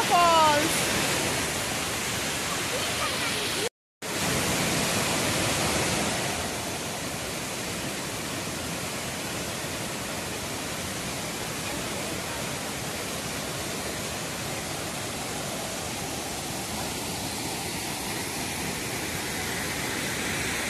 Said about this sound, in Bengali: এই যে সীতা ফলস।